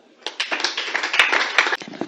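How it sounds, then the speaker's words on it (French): An audience at an international women's rights conference marking 8 March applauds to welcome a speaker, brisk clapping that swells suddenly after a quiet start, holds for about a second and a half with a few sharper claps, then stops abruptly. "nous allons devoir inviter en applaudissant fortement"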